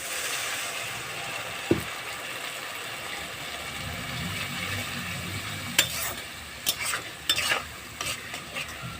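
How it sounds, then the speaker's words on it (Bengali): Spice masala with Kashmiri chilli powder frying in a pan with a splash of water, a soft continuous sizzle with occasional scrapes, then a cluster of louder clattering stirring strokes near the end. "এবার একটু জল দিয়ে মশলাটাকে কষে নেবো"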